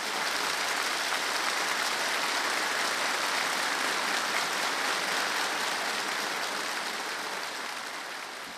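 A live music competition audience applauds a singer's performance with dense, sustained clapping that stays loud and even for several seconds before tapering slightly at the end.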